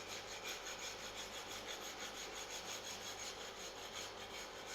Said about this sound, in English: you can regulate how quickly or carefully you shave off the wood